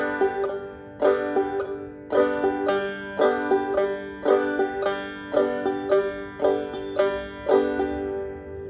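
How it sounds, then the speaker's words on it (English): Clawhammer banjo plays a steady rhythm with a single picked note in place of the first strum, bright twangy plucks repeating in an even pattern about once a second, close and fairly quiet. "Now we're going to replace that first strum with a single note strike."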